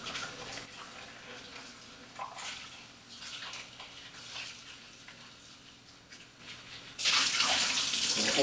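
Running tap water while potatoes are washed in a sink to scrub off dirt for a gluten-free potato salad, a steady hiss that swells much louder near the end as the flow increases.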